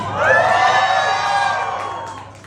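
A crowd at a surprise on-stage proposal erupts in loud, high-pitched screaming and cheering, swelling quickly and then slowly fading over a couple of seconds.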